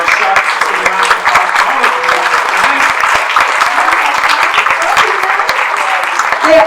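Audience applause at a special needs talent showcase, steady dense clapping from a crowd filling the whole stretch, with a voice faintly talking over it.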